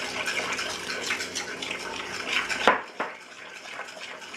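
Stirring red rice flour and other ingredients in a mixing bowl for rice bread, with a steady scraping, clinking rattle of utensil against the bowl, a sharper knock near the end, then quieter scraping.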